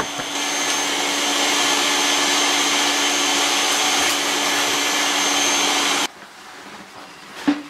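A bagged vacuum cleaner runs loudly with a steady whine for several seconds, then cuts off abruptly, leaving a quiet room with a faint knock, during a gas hydronic boiler service call.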